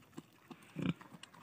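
A pig on a farm in Assam munches broccoli leaves, giving soft, close chewing crunches and snuffling grunts in an irregular rhythm with a stronger burst midway.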